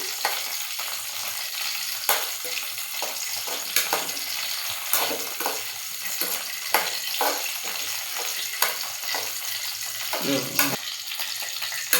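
Brinjal sautéing in oil in a pan, a continuous close sizzle broken by frequent soft scrapes and taps of a stirring spoon.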